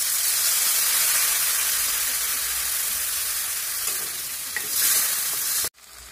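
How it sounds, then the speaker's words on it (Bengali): Vegetables fry with ground spice paste while being stirred, a loud continuous sizzle with occasional scraping stir sounds toward the end, then a sudden drop to a quieter hiss. "তরকারিগুলো ভাজা হয়ে গেছে, এখন বাটা মশলা দিয়ে দেবো।"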